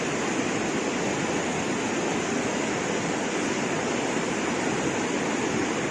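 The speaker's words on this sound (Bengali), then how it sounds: "আর জলের তো শব্দ আছেই।" A river rushing steadily near Jhandi in the Dooars, a loud, continuous broadband roar of flowing water close by with no pauses or voices.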